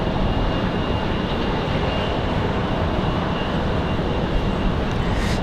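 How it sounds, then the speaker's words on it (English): Republic Airways regional airliner arriving at Raleigh-Durham International Airport on a windy day, a loud steady broadband engine roar with rumbling wind noise throughout, close and continuous. "Republic Airways 4560 going to be the next arrival"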